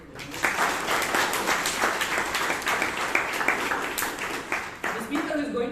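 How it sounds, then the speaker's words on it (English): Toastmasters meeting audience in Bangalore applauding steadily, a dense wash of many hands clapping close and loud for the whole stretch, tapering slightly near the end. "Can we have a round of applause for this?"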